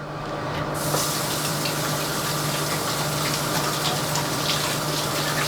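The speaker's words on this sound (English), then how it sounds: "And we wash our hands again." Hands are washed under a running kitchen tap while preparing garlic parmesan chicken wings: a steady, close rush of water that holds evenly throughout, with no talking.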